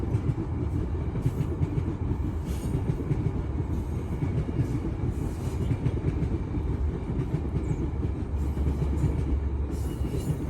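A train passes by in a busy area, a constant heavy low rumble of rolling wagons with faint rhythmic clatter, sustained and fairly near throughout.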